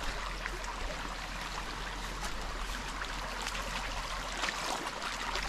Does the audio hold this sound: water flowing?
yes